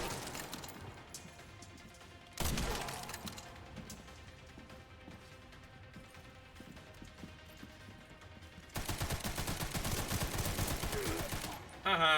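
Gunfire in the survival-horror game Resident Evil Requiem, heard as loud bursts of shots near 2.5 seconds and again from about 9 seconds on, set against quieter game ambience in between.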